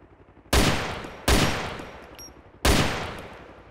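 Three loud, close gunshots from a DayZ player firing at another player, each a sharp crack with a long decaying tail, spaced roughly a second apart.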